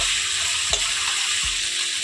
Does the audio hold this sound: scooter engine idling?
no